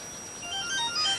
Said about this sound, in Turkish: Ay telefon.